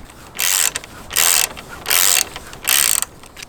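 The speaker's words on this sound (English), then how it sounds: "Next we will loosen this bolt on the top, which is a size 6 again." A ratchet wrench loosens a size 6 hex bolt on a motorcycle center stand, four short bursts of rapid clicking separated by brief pauses, close and crisp.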